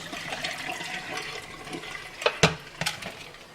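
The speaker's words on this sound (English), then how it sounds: "I'm going to rinse the water out, remove the hot water" Hot water poured off rinsed catfish in a home kitchen, a steady low splashing pour with a few sharper sloshes and gurgles near the end, fairly quiet and close.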